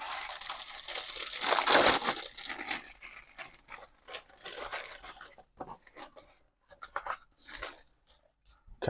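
Paper and plastic packaging from a Hachette Partworks Titanic model issue is torn open and crinkled by hand, loud crackling rips at first, then lighter intermittent rustles and crinkles close by.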